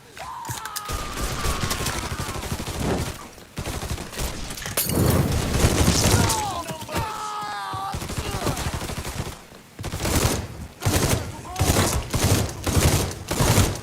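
Rapid gunfire rattles through a Mafia 3 firefight, dense bursts of shots recurring across the scene, with voices shouting in between and stretches of heavy automatic fire near the end.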